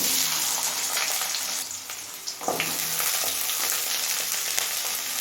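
Potatoes fry in hot oil with black cumin and reddened green chilli, giving a loud, steady sizzle and crackle throughout, with a brief stir or clatter midway and no talking.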